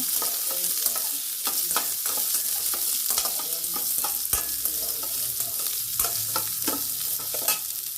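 Two onions sizzle steadily in a hot pan while a utensil scrapes and clacks against it in irregular stirring strokes, close and fairly loud.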